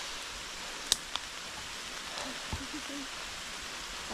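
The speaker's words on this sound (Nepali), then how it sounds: "पानी त रोकिँदैन जस्तो" Steady rain falls with an even, soft hiss, broken by a couple of sharp drip-like taps near the start, while faint voices murmur in the background.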